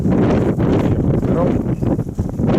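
Strong wind outdoors near a car, at about +2°C, buffets the microphone in a loud, continuous roar with gusty surges.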